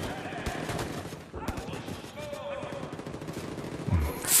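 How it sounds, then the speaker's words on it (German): Gunfire in the video game Wolfenstein 2 The New Colossus, bursts of shots crackling across a busy battle mix with scattered sharp reports and a louder blast near the end. "Ich höre schon wieder Schüsse."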